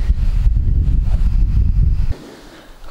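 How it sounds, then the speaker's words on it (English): Night wind gusting across a backyard microphone, a loud continuous low rumble and buffeting for about two seconds that then drops suddenly to a much quieter, steady background hiss. "It's also pretty windy tonight"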